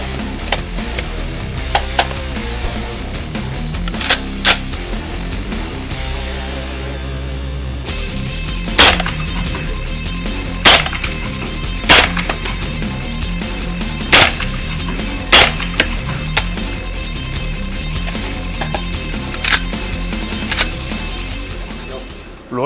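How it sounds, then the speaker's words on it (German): A suppressed Robinson Armament XCR rifle fires .300 Blackout subsonic rounds: a series of sharp, muffled cracks spaced a second or two apart, with a mechanical clack after each over low outdoor range noise. "jetzt habt ihr mal gehört, wie sich das so anhört, wenn man mit Subsonic-Munition und einem Schalldämpfer schießt"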